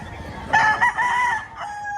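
A rooster at a chicken market in Batangas gives one loud, close crow with a drawn-out wavering call, over a low hum of background noise.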